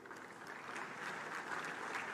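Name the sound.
applause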